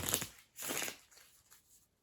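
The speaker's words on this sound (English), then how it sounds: "you'll shuffle up the one person will be the dealer" A deck of playing cards being shuffled by hand, close and quiet, in a few short riffling bursts that fade toward the end.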